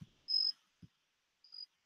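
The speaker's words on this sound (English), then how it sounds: "I hear crickets." Crickets chirp in short, thin trills, two bursts separated by quiet, faint and somewhat distant, with a couple of soft low knocks in between.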